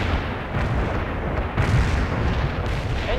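Artillery fire and explosions rumble through a battle in the real-time strategy game World in Conflict, a dense, steady, loud roar of booms and blasts with no distinct pauses.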